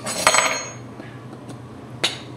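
A butcher knife strikes a cutting board while steam bun filling is chopped and mixed, a few sharp, close, separate knocks with quiet pauses between them.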